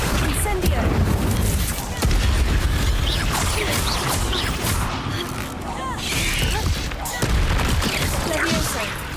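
Spells are cast in Hogwarts Legacy, including levitation, summoning and fire spells during a fight with spiders. The result is a busy stretch of whooshing bursts, booms and crashing impacts layered over a constant rumbling game soundtrack.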